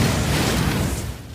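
A bomb blast aboard a ship in a film sounds as a dense, roaring boom, loud and close, with broad rumbling noise that holds steady and then fades slightly.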